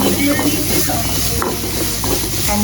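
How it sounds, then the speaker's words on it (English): Onions and ginger sautéing in oil, a loud close sizzle with steady stirring and scraping throughout. "sauteing the onions and ginger, and we'll put the lemongrass after"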